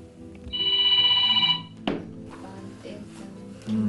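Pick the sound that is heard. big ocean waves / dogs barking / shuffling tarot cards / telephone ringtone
telephone ringtone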